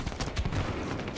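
Gunshots in Halo 5 Guardians multiplayer, a few sharp reports in quick succession amid busy battle noise, fairly close and loud, with no talking.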